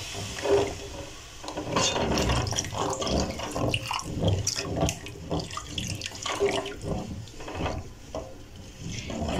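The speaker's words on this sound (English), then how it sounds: "Adding some water" Water pours steadily into a pot of meatball broth with a continuous splashing rush, joined by clinks and knocks of the pot and utensils nearby, with no talking.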